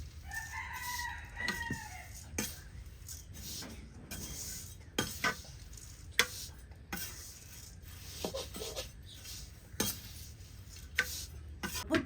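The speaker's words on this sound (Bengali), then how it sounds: "চিরা গিলা আমি 20 মিনিটের মতন ভেজে নেব।" Flattened rice (chira) dry-frying in a hot pan, with spatula stirring making repeated scraping clicks, while a rooster crows loudly nearby and fowl cluck in a village background.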